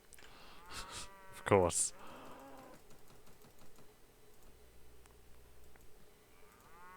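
Cattle lowing in Mount and Blade: Warband with the Warsword Conquest mod, a brief moo standing out over quiet game ambience while someone talks.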